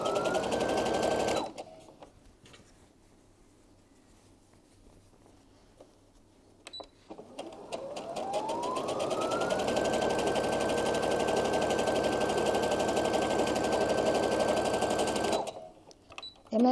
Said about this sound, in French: on va aller coudre le bas de la même manière